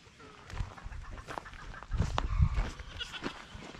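Farm goats bleat and call in a cluster of overlapping cries, some near and loud, others softer, with rustling and movement around them.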